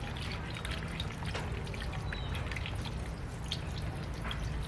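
Water trickles and drips steadily while carrots and apples are washed, a continuous liquid pour with scattered splashy drips, close and moderately loud, with no talk over it.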